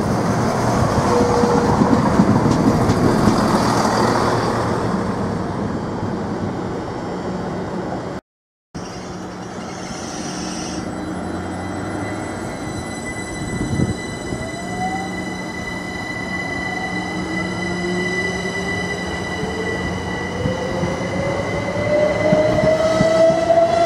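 A British Rail Class 170 diesel unit at Ely station rumbles loudly nearby, with rising engine tones, wheel squeals and a brief dropout, continuous rail noise throughout and no talk.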